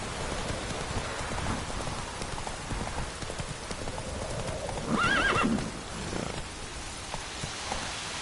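Roach the horse whinnies once, briefly, over steady rain and the soft clip-clop of hooves in a PS4 video game.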